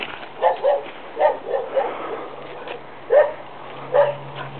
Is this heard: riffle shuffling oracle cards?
no